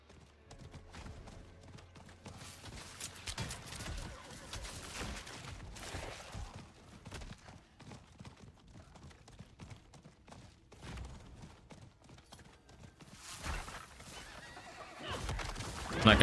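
Horse neighing and galloping hooves in a video game, recurring across the stretch amid game music and effects, with a louder burst near the end.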